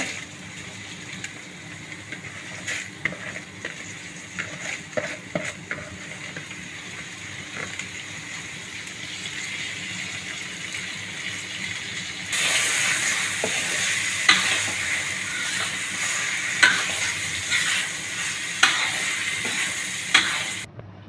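Rice for pulao is stirred as it fries in a pot, giving a continuous sizzle with scraping stir strokes that grows louder and brighter partway through.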